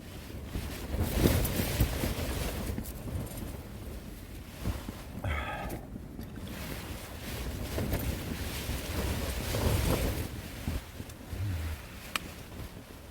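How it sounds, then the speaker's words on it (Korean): Strong wind gusts roaring across a backpacking campsite in rain, with broad, loud rushing and buffeting against the microphone that rises and falls continuously throughout. "바람이 엄청 불고 있습니다"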